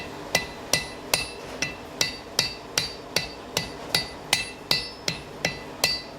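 A blacksmith hammers hot iron while forging a nail: about sixteen sharp, ringing strikes in a steady, fairly quick rhythm, close and clear with no talk.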